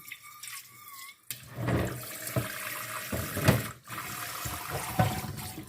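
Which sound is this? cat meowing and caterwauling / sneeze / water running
water running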